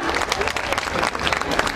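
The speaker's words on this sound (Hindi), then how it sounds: "एक बार जोरदार तालियां" Sustained applause from a school audience at an annual day prize announcement, dense clapping running loud and steady throughout with crowd noise mixed in.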